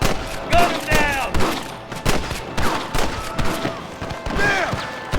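Rapid gunfire in the Western video game Red Dead Redemption: repeated sharp shots and bursts crack out close and loud, mixed with game sounds and a voice.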